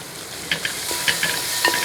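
Vegetables and green chillies sizzle in a hot pan, with occasional scraping and stirring clicks over a continuous frying hiss.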